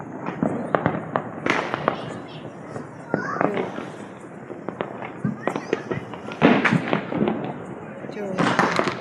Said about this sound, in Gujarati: આ જો ચારે બાજુ ફટાકડા એવી રોશની છે આપણા પોરબંદરમાં